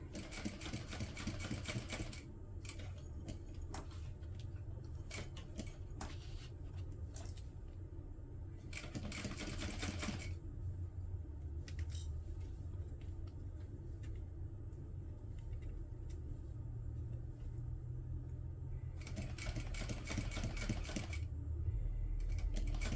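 A home sewing machine stitches a seam on a pink bunny fabric pouch at a long stitch length, giving a steady, close mechanical whirr with bursts of faster rattling that start and stop throughout.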